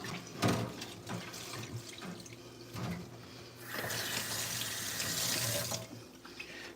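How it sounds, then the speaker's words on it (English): Hands rinsed under a running kitchen tap while cooking a faux shepherd's pie; steady, close splashing water, strongest in the second half, with no talk. "Let me do a quick hand rinse."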